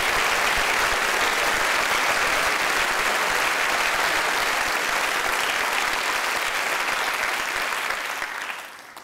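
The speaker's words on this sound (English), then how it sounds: "I just wanted to give a big round of applause, if you'd join me, to all of you, the audience" A conference audience gives a long, sustained round of applause during a closing speech, dense, loud clapping that stays even for most of its length before fading out at the very end.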